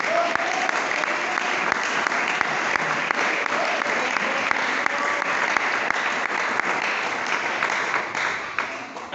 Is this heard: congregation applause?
yes